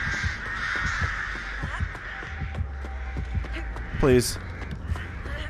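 Crow caws tied to the Artist killer in Dead by Daylight, a short burst of harsh calls near the four-second mark over steady game ambience, with players talking throughout.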